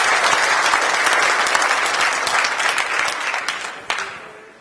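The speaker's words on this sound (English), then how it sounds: "So round of applause." A live crowd at a 2015 gathering breaks into sustained, loud applause, dense clapping filling the whole stretch before tapering slightly near the end.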